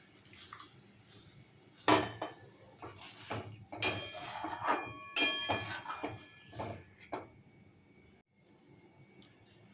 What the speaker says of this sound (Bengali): এবার দিয়ে দেবো সামান্য একটু গরম জল